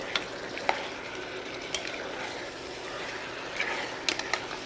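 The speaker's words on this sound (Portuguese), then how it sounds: "E agora que já ouvimos este som do refogado mais apurado" Refogado base for cabidela chicken sizzles steadily in the pan while a utensil stirs it, with faint sharp scrapes and clicks over the frying hiss, close and fairly quiet.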